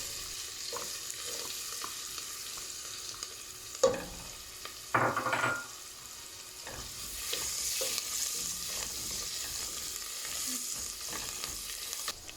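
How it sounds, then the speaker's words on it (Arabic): Chopped onion fries in melted butter and vegetable oil, a soft continuous sizzle with occasional stirring scrapes and a brief louder clatter partway through. "رح أحط ملعقتين كبار من الزيت النباتي، وهون بدي أضيف بصلة مقطعة بهذا الشكل"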